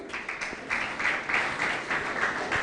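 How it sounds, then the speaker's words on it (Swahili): Applause at a celebration honouring a member of Parliament, a crowd clapping in a steady, moderately loud burst lasting a few seconds. "Makofi kwa Faisal."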